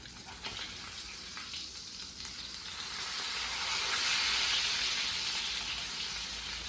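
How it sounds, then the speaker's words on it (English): A USDA prime steak sears in a hot pan after being flipped back onto its first side. A dense, close sizzling hiss swells slightly louder midway and then holds steady, with no voices. "And now we're gonna flip it back over to finish out the sear on the side that we started on"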